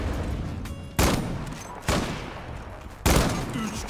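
A Shaher sniper rifle in Zula fired three times at slow, even intervals, each a loud, sharp crack with a long fading tail, over a faint game background.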